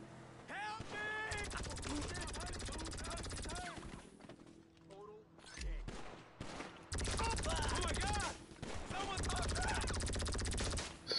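Enemy gunfire rattles in sustained machine-gun bursts during a GTA V Online firefight, loud and dense with a brief lull in the middle, while players talk over it.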